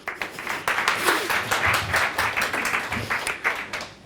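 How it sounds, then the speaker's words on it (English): An audience at an animation conference roundtable claps for the panelists, a dense, steady burst of applause at moderate loudness lasting about four seconds, with no talking over it. "Give them a round of applause"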